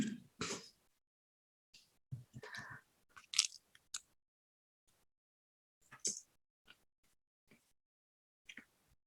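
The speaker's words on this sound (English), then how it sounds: "Now we're gonna crunch the yuzu." Crunching and biting into a yuzu macaron, with several separate close crisp bites and soft chewing spread across the stretch between quiet pauses.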